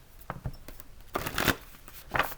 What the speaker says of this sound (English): Let's get into the shuffle a little bit more